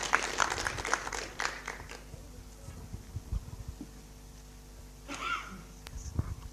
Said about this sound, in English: Let's give her some clap as she comes over.